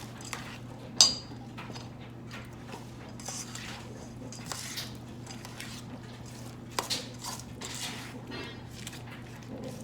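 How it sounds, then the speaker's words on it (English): A spoon stirs a vegetarian meatball mixture in a bowl, making soft squishy scraping and a few clinks against the bowl, quiet and close over a low steady hum. "stir this all up"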